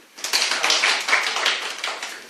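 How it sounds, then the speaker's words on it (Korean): Congregation clapping during a New Year's Eve church service, a close, lively burst of many hands applauding together, rising quickly and holding steady for about two seconds before tapering. "박수"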